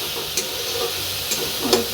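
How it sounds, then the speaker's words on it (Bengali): Ginger, garlic and dry red chilli paste frying in a pan for a chickpea curry, a continuous close sizzle with a few quick spatula scrapes as it is stirred. "একটু কষাবো, যতক্ষণ না জল বেরোচ্ছে ততক্ষণ আমরা কষিয়ে নেব"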